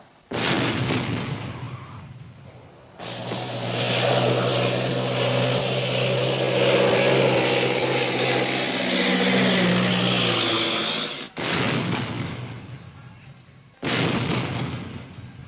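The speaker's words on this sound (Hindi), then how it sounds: "उधर इंडियन एयरफोर्स ने जय की हवाई सलामी अदा की।" An Indian Air Force aircraft flyover salute roars past in a long, loud swell of engine noise that slowly fades. Sharp bursts follow, with no speech.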